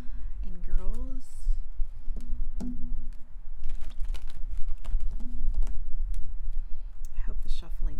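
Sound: shuffling cards

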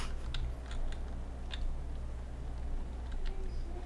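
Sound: typing on a computer keyboard

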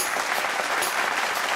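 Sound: audience applause welcoming a performer

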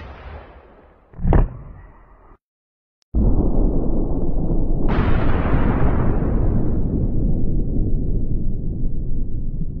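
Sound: 300 Blackout expanding bullet gunshot into block

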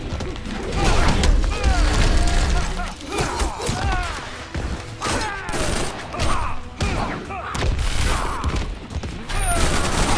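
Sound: guns firing in Injustice video game

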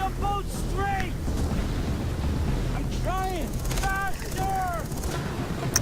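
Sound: AK-47 gunfire in video game Far Cry 3

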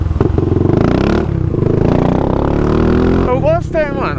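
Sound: motorcycle with aftermarket exhaust, Honda CB Twister

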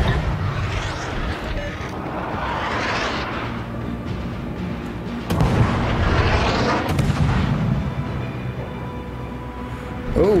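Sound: ship's naval guns firing in a video game

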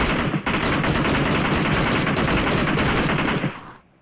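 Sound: gunfire in a battle royale video game

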